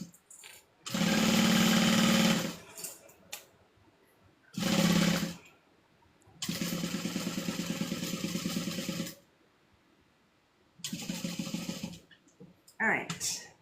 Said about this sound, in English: So I'm just sewing this on.